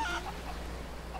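Chickens in the pirate video game Sea of Thieves giving a brief, soft cluck or two over a steady low ambient hum.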